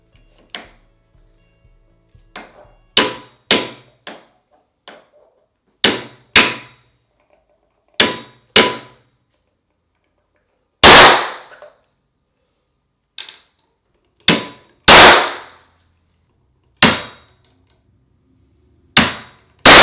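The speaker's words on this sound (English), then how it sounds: "Pre-drilling the tile, pre-drilling the wood, shooting it right through, worked out great." A series of sharp, loud bangs, spaced irregularly with short pauses, some ringing briefly, from a powder-actuated tool shooting fasteners through pre-drilled tile into wood.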